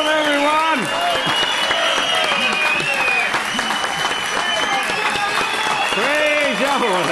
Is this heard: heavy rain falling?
no